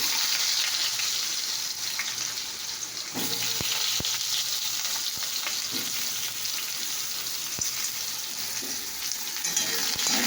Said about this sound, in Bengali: এদিকে দেখো আমি পাঁচফোড়ন দিয়ে দিচ্ছি, আর এই যে আলুটা আছে এই আলুটাকে আমি দিয়ে দিচ্ছি